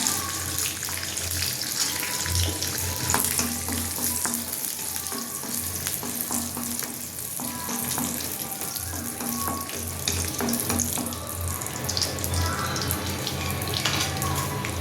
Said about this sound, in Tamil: இப்போ முந்திரி பருப்பு வறுத்துடலாம்.